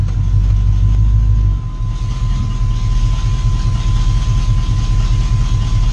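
Car engine idling in gear with a tachometer fitted, a loud, steady low rumble close by with a faint constant whine above it and a slight drop in level early on.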